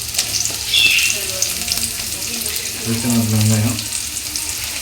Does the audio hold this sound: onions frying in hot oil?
yes